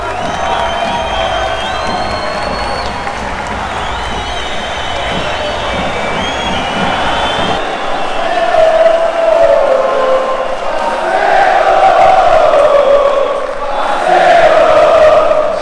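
Dense crowd at the CS:GO Rio Major esports tournament cheering and chanting in waves, with rhythmic sung chants rising louder in the second half, filling the arena with continuous roaring noise.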